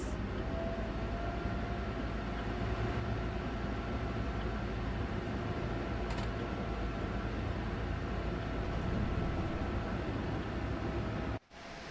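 Noisy DB BR103 locomotive in Train Sim World 3 on the Linke Rheinstrecke approaching Bingen Hochbahnhof, a constant broadband roar with a faint steady whine, unbroken for several seconds before a brief click and a drop near the end.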